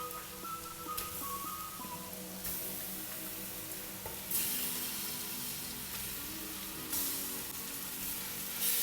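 Chicken pieces for tinola sizzle and crackle steadily as they go into a hot pot, with a continuous close frying hiss and occasional stirring scrapes, and no talking.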